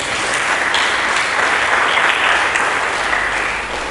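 Church congregation giving loud applause for Jesus during a sermon, a thick, close, continuous roar of clapping at steady volume throughout.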